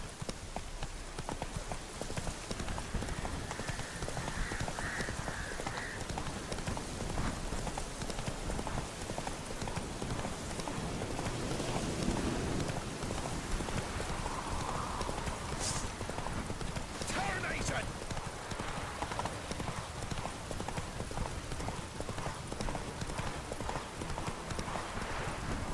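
In The Witcher 3, a horse gallops through rain, its rapid clip-clop hoofbeats running steadily and close over a constant hiss of rainfall, with occasional voices talking over it.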